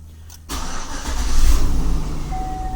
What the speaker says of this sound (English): we're going to start our engine again